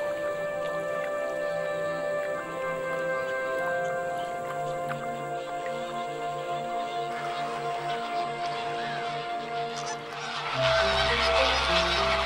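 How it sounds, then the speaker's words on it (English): A dense chorus of honking calls from a large flamingo flock at Botswana's soda lake pans, steady and layered, rising into a louder, noisier wash near the end. "Flocks of flamingos begin to stream away from the pans."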